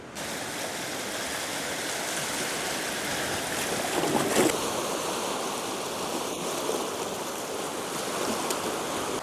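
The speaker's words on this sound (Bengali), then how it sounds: "এই হচ্ছে সমুদ্র" Sea surf washing onto Gobardhanpur beach in the Sundarbans G Plot area, a steady broadband wash of waves near and continuous for the whole stretch, swelling slightly midway, with no voices.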